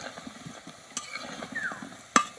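Carrot gaja sweets fry in a hot kadai, giving a soft bubbling sizzle with light scraping and clinks of stirring, a sharp metallic tap near the end.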